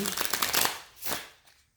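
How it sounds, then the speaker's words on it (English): Tarot cards shuffled by hand in a short burst of riffling, soft papery flutters that stick and slow, then a second brief riffle, close and fairly quiet. "Oh, these cards are sticking suddenly."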